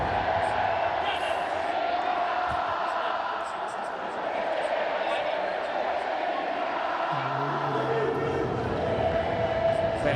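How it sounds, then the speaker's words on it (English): A very faithful cricket crowd sings together at a ground, a broad steady roar of massed voices spread across the whole clip, with a commentator talking over it. "you may well be able to hear the singing of this very, very faithful crowd"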